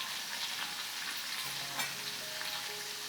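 Onions frying in a pan for Gari Fortor, a Ghanaian dish, give a steady close sizzle with a few soft stirring scrapes, no voices present.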